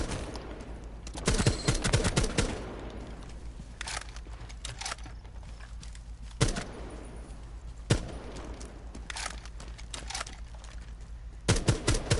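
Rapid bursts of video game gunfire crackle in a few clustered volleys, the sharp shots loud against a quiet background as the player fires at an enemy.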